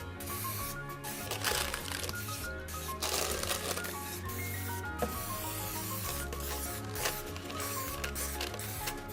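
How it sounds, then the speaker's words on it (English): Short hissing bursts of nonstick cooking spray repeat against a low background hum, close by, sprayed onto the sides of a springform pan, with rubbing and handling noises between them. "I'm going to spray the sides of the springform pan with nonstick spray."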